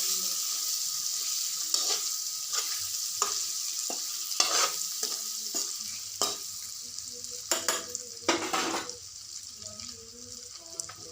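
Quartered boiled eggs are stirred gently and fried in a pan, a soft background sizzle punctuated by repeated spatula scrapes and clacks against the metal.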